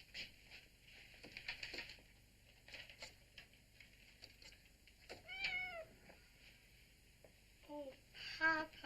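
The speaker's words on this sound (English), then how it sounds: "James, how can we afford to be feeding a kitten now?" A kitten gives a few faint, high meows, one clear cry in the middle and a short pair near the end, over a quiet room with light pattering.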